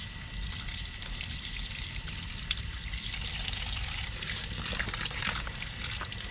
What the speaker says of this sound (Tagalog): kaya lalagyan na natin ng tubig